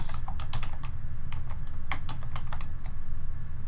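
Rapid, irregular clicking of keys on a computer keyboard as C++ code is typed, close and steady over a low background hum, with no voices.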